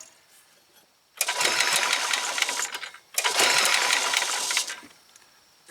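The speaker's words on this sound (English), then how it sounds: "Cranking over, just like it's supposed to be." A Yamaha golf cart engine cranks over on its repaired starter in two sustained whirring, buzzing bursts of about one and a half seconds each, separated by a brief pause, loud and close.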